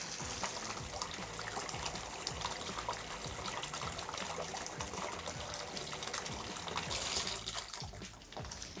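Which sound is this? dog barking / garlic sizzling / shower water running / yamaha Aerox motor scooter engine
shower water running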